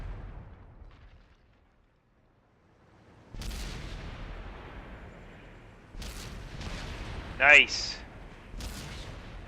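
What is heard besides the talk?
tank cannon fire in a tank video game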